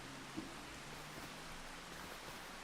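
Steady rain falls in the Farming Simulator 25 video game, a soft continuous hiss of drops with one faint tap near the start, quiet and even throughout.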